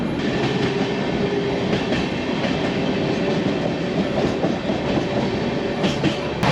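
Doon Express train running steadily on the tracks, a continuous loud rumble with rail clatter and faint wheel noise throughout, no voices.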